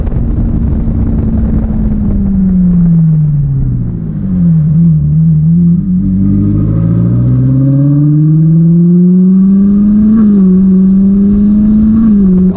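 A Ferrari decelerating hard from 60 mph on its electronic parking brake, with a loud engine note dropping in pitch, dipping, then rising and wavering as the car slows.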